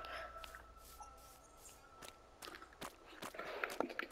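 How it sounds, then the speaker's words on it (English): Footsteps crunching through a swamp in a block-building video game, a soft irregular series of light steps over quiet ambience, growing a little busier toward the end. "Oh, I think it was my own footsteps"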